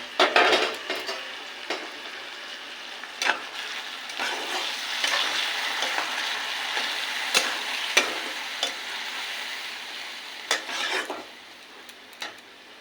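Chopped onion frying in oil, with ground spice paste and chopped tomato added to the pan, gives a steady close sizzle broken by the scrapes and taps of a stirring spoon.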